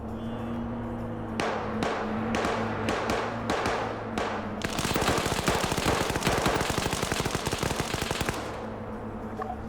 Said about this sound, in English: some dudes shooting out of range